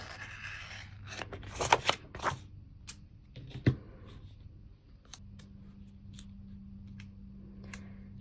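Scissors trimming paper for a planner page, a few quick close snips and paper rustles in a quiet room, followed by soft scraping and a faint steady hum.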